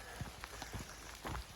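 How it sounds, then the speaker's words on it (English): Rain patters steadily on a tree canopy beside a river along a forest path on the Camino Frances near Pamplona, with soft scattered drops tapping nearby at a low, quiet level and no voices. "But it is raining."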